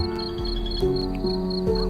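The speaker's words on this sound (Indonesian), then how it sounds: "Hanya ada suara jangkrik" Crickets chirp at night in a quiet rural setting, a rapid repeating high-pitched pulsing that stays steady and moderately close, over a low hum of background.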